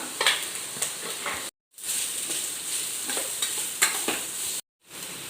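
Vegetables for veg fried rice, including peas, cabbage and spring onion with salt, are stir-fried in a pan with a loud, steady sizzle and repeated scraping stirs, broken by two brief silent gaps.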